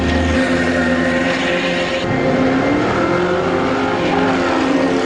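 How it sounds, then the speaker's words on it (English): A diesel-powered rally vehicle at the Kameel 200 pulls away with a loud, steady engine drone, revving and shifting pitch over several seconds. "Father Bertus and his son Bertus Kriel heading out in E99, powered by a diesel motor"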